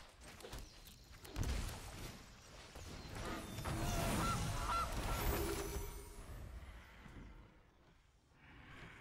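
A Gilded Goose card enters play in the MTG Arena digital card game, sounding as a cartoonish goose honk layered over swelling magical chimes and shimmering effects, moderately loud.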